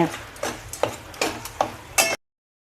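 A spoon scrapes rhythmically through edible gum in thick, dry roasted flour for sukhadi in a pan, about six close strokes, before the sound cuts to silence.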